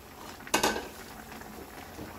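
Spicy pork kimchi stew bubbling in a pot, with a soft continuous simmer and a brief clatter of a utensil or lid early on.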